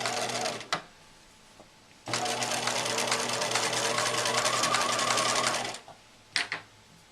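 A sewing machine stitches close to the edge of an apron hem, running steadily for several seconds in a loud, dense whir with short bursts before and after, close up and without talk.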